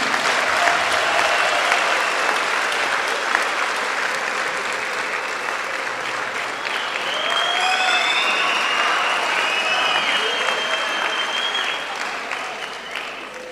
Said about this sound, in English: give a round of applause to President Zuma for having founded Mkonto Wesizwe Party